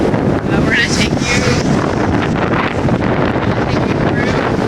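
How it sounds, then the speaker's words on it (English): Strong wind blows outdoors beside a highway in Florida, buffeting the microphone with a constant loud rumble, and a voice is faintly heard under it. "It's very windy."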